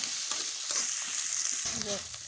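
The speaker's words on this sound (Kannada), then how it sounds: "ಈ ಶೇಂಗಾ ಹಿಂಗತ್ತೆ ಎಣ್ಣೆಗೆ ಹುರಿಬೇಕ್ರಿ ಸ್ವಲ್ಪ" Peanuts and green chillies fry in hot oil for a chilli-onion churumuri tempering, giving a loud, dense, steady sizzle with faint stirring scrapes throughout.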